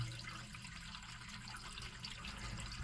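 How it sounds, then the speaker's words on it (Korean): A large amount of water rushes steadily down a bathtub drain that was being checked after a leak caused by a detached drain fitting, a continuous close gurgling flow with no pauses. "많은 물로 물 내리고 있습니다"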